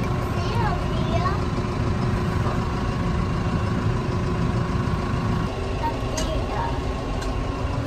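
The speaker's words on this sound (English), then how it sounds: "We're in the nice tractor now." Inside the cab of a farm tractor, the engine idles in a steady, loud, mid-pitched drone that holds throughout with little change.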